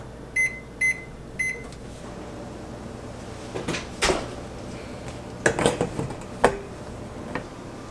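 A kitchen timer being set for baking Halloween muffins gives three short, evenly spaced electronic beeps, followed by a few cupboard and dish knocks and clatters nearby.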